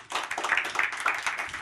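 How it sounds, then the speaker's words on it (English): Brief burst of audience applause at a hackathon event in Davos, many hands clapping in a dense, mid-level patter for under two seconds. "let's give Yvonne a round of applause"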